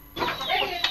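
Local chickens on a small poultry farm cluck and call close by, a busy overlapping flock with sharp calls rising over a steady background hum.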